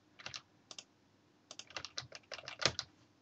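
Bursts of quick key clicks on a computer keyboard while typing in Word, in short irregular clusters with brief pauses, close and fairly quiet.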